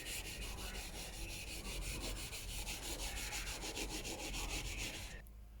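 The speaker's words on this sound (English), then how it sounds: "I've also been sanding a little bit." Steady abrasive sanding of a car engine bay, a continuous gritty rubbing with rapid regular strokes, close and fairly loud, stopping abruptly near the end.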